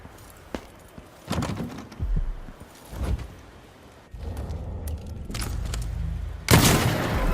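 Gunfire in the video game Dishonored 2: a few sharp isolated cracks early on, then heavier booming bursts and a loud blast near the end over a rumbling game soundscape.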